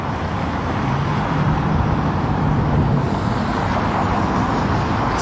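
A Ferrari Monza SP2 moves through Paris traffic, heard as a continuous mid-distance engine hum blended with steady city road noise.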